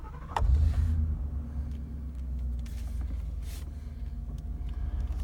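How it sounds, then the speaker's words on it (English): A faulty truck's engine is started again, with a sharp crank and catch at the start, then a low steady idle rumble that continues to the end, close by and without talk. "So now I'm turning the truck back on."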